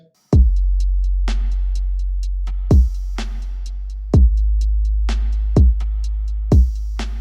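A punchy electronic drum beat made in FL Studio with stock plugins, with booming kicks, snappy hits and quick hi-hat ticks over a sustained low bass, loud and steady.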